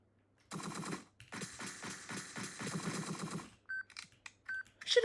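Rapid bursts of automatic gunfire from a firefight in the video game Entry Point, a long dense volley followed by sparse electronic beeps and interface clicks, loud and close with no talking.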